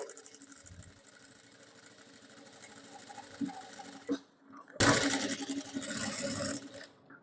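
Sewing machine stitching fabric to join a sleeve, a fast mechanical whirr running in bursts with a brief pause, then a louder, closer stretch of stitching toward the end.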